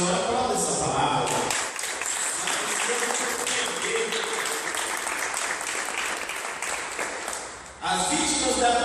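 A church congregation applauding during a sermon, producing sustained dense clapping that fills the room for several seconds while a voice speaks over it, then fades near the end.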